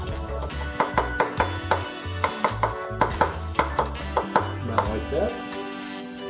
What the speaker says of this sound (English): I'm going to chop these up pretty fine.